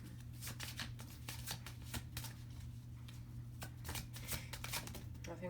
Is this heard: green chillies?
no